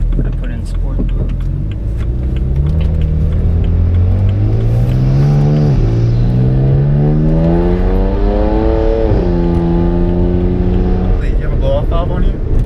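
A full bolt-on BMW 335is in sport mode pulls hard through several gears, the engine note rising with each shift under a loud, steady cabin rumble, with faint hissing bursts that may be its Turbosmart blow-off valve.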